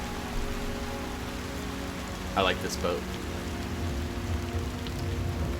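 Steady video-game rain hiss fills the clip from start to finish, with a person speaking briefly over it partway through.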